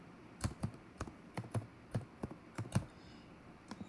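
Login details being typed on a computer keyboard at close range: a dozen or so sharp, irregular key clicks spread over a few seconds, with no talk.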